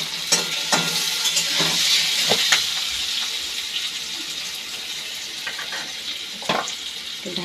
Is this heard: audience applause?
no